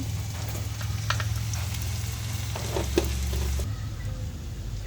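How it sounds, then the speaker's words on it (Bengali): Cashews, raisins and green peas with salt frying lightly in a pan, a close, steady sizzle with a few spatula clicks and stirring scrapes, no voices. "এবার এগুলো একটু ভেজে নেবো হালকা। কাজু, কিশমিশ, সবুজ মটর, নুন,"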